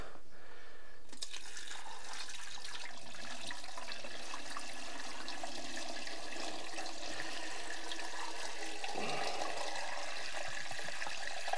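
Water from a garden hose runs steadily to prime a newly replaced swimming pool pump, a constant moderate rushing and trickling flow with a slight shift near the end.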